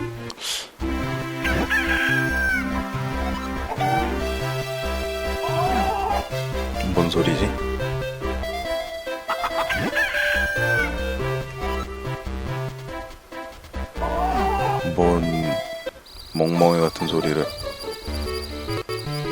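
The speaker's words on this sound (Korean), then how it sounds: "꼬꼬들이 엄청 난리를 부리는데" Cuccos, the chickens of The Legend of Zelda: The Minish Cap, crow and cluck in a frantic burst over the game's bright melodic music, repeating in short cries throughout.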